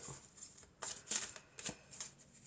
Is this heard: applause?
no